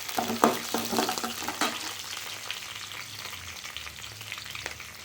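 Onions and green chilies frying with chana dal in a pan, a close, crackling sizzle with a few sharp stirring knocks early on that settle into a steadier, softer fry.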